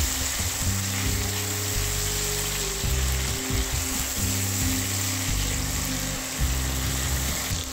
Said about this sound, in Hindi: यहाँ हम डालेंगे अदरक, हरी मिर्च और लहसुन का पेस्ट और इन्हें भी हम अच्छे से कुक कर लेंगे